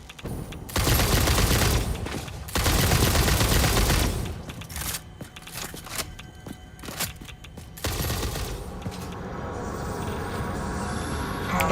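Homing bullets fired in Satisfactory, bursts of rapid gunfire in a few loud volleys separated by short lulls and scattered single shots, close and punchy, with a steady hum underneath toward the end.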